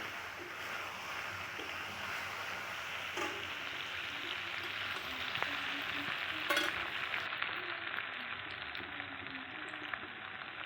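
Potatoes and taro frying in oil with cumin and bay leaf give a steady, close sizzle that stays even throughout, with a few faint stirring knocks.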